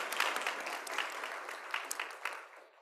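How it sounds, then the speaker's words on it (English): Applause from a meeting audience at the LSIC 2022 Spring Meeting welcomes Kratina, a steady wash of many hands at moderate volume that fades out near the end. "let's give her a round of applause, too"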